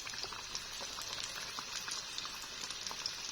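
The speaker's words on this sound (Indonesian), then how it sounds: "Udah kayak gini aja caranya goreng." Food sizzles and crackles steadily in hot oil in a pan, a dense, even frying hiss that runs unbroken for the whole stretch with no one talking.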